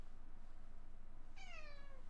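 A single rising-then-falling cat meow near the end, clear above a steady low hum.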